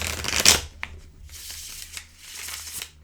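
Crisp riffling of a tarot card deck, one loud burst near the start, then softer shuffling and tapping sounds, close up with no talking.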